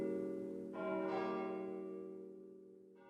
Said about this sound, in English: bells, more of those bells at the spire at Holy Cross Cathedral in Boston